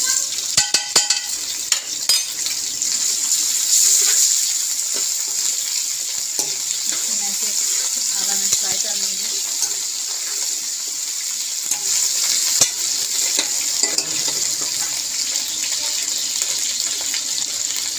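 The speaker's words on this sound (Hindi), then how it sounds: "अब मैं डालने लगी हूँ लहसुन अदरक का पेस्ट।" Garlic ginger paste sizzles in hot oil with fried onions and is stirred around a pan, a steady broad frying hiss with scraping clatter, loud and continuous throughout.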